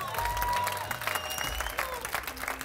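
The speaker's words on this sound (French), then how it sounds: "On peut leur donner une bonne main d'applaudissement." Applause and some cheering from the crowd at an improv match after its last improvisation, dense clapping close and lively with faint voices mixed in, easing slightly toward the end.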